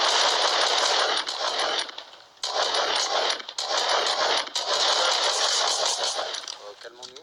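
Rapid automatic gunfire in a shooting video game, loud and nearly continuous bursts with a few short breaks, while someone talks over it.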